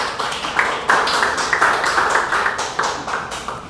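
A church congregation at a Wednesday worship service claps together in praise, a loud, close, continuous burst of many hands with slightly rhythmic surges and no talk over it.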